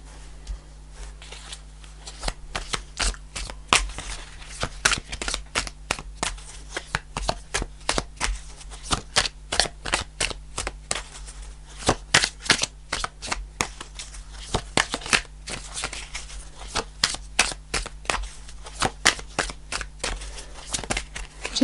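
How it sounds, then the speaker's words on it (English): A tarot card deck being shuffled at length, a steady stream of crisp close-up riffles and soft card slaps continuing for over twenty seconds with no voices. "This deck in particular needs quite a bit of shuffling."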